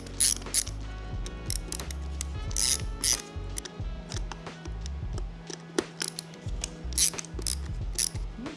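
Ratchet tool backing out four screws on a Tesla Model Y steering wheel to free the face trim, a steady close clicking and whirring ratchet rhythm with short pauses and light metallic clinks, no talk.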